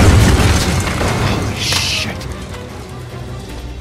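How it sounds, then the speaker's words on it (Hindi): Bomb explosion in the Uncharted 4 video game: a loud, deep booming blast at the start that rolls into a rumbling decay with a brief crackling burst of debris, fading over a few seconds. "ये बम फटने वाला है।"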